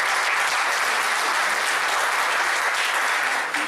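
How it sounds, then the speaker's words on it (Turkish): Dense, loud applause from an audience at a sports play-off draw ceremony, continuous clapping from many hands throughout with no talk. "Ben bu arkadaşlara özel bir alkış"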